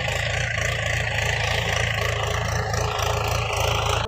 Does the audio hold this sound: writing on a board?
no